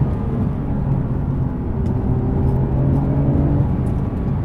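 A 2021 Porsche Turbo S, a 640 hp sports car, accelerates on a twisting road, its engine a steady, loud rumbling drone that holds strong throughout, heard from inside or close by with no talking.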